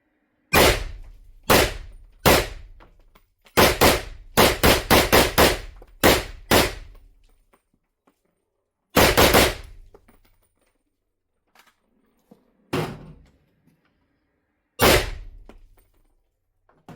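An Alpenflage Draco gas-piston rifle firing 123 grain ball ammunition: loud, close single shots and quick strings of rapid fire with gaps between, each report ringing briefly, then a few widely spaced last shots and small clicks.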